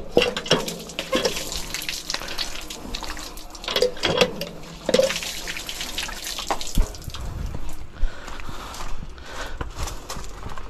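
Tap water runs into a sink while something is washed, the splashing and trickling shifting in bursts with occasional drips, fairly close and steady without talk.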